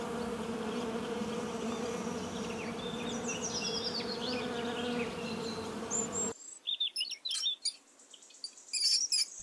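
A bee buzzes in a steady, close drone for several seconds, then cuts out, leaving high chirping birds in a quieter outdoor setting.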